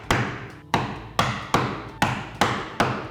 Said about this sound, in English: Now I will take the chisel and I will go straight down into that back corner.